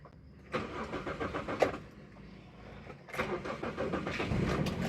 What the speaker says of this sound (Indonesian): kita langsung hidupkan mesinnya. Oke, kita nyalakan ya.